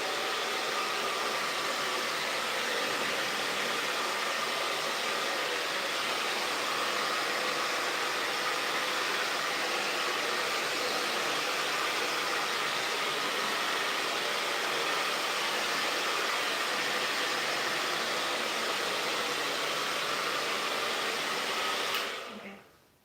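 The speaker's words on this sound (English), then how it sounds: "I'm just gonna really quickly pass over this with a hairdryer." A hairdryer blows a steady, close, even rush of air over fresh paint on a cabinet for over twenty seconds, then shuts off abruptly.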